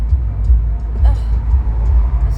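A bus in morning traffic, heard from inside a nearby car as a steady low engine rumble and road noise, with a sharper bump partway through and faint voices.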